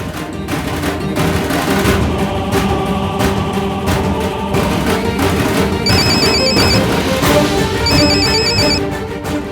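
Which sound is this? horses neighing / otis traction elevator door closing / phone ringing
phone ringing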